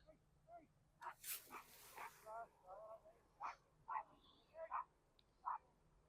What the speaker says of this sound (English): Dogs running wild in the Stanley Park.